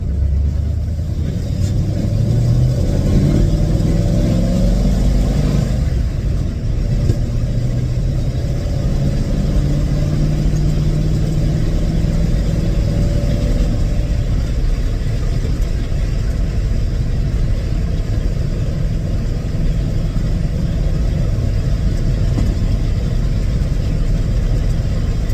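A 1935 Ford's engine runs steadily while the car drives along, a loud, close, low drone with gentle shifts in pitch as it pulls and settles, and road rumble throughout.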